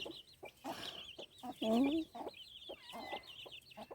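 A hen clucks softly while her newly hatched chicks cheep in high, rapid peeps, close by and intermittent, with one louder cluck standing out midway.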